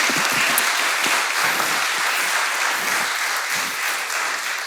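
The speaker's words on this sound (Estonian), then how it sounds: "Teeme panelistidele suure aplausi." Audience applause for panelists at a panel discussion on green municipalities, a steady, dense roll of clapping that stays loud and even from start to finish.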